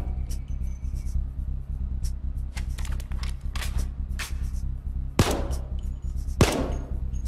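Gunfire in the video game Payday 2, with a steady run of rapid shots over a constant low game rumble and two sharper, louder bursts near the end, with no talk.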